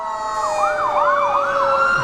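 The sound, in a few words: police sirens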